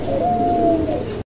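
Large pigeons coo softly, a low drawn-out call over steady background noise, close by, ending in a brief cut.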